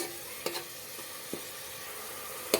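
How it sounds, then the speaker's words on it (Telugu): Onions and green chillies fry in oil for an aloo kurma curry, giving a steady soft sizzle broken by a few sharp clicks of a spatula against the pan, close up with no voices. "ఇక్కడ ఇది వేగుతూ ఉంటుంది కదా ఇది కొంచెం వేగాలి"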